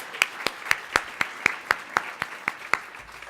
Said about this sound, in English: We got to give him another round of applause.